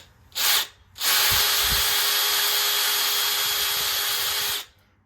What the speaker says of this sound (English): I'm using a bigger drill bit than I normally would to do this